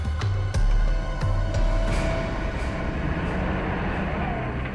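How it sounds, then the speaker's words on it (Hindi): Rumbling heavy vehicle moving through a forest in a TV drama scene, a continuous loud low roar with clanking knocks and a sustained horn-like tone, no talk. "ट्रक की आवाज? ट्रक जंगल में?"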